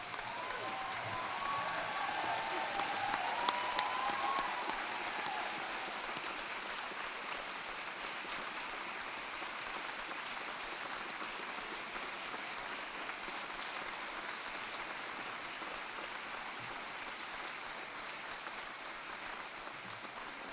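Warm applause at a university graduation ceremony honouring a new doctor, a large indoor crowd clapping steadily and evenly for about twenty seconds, fairly distant and moderate in level, slightly fuller at the start.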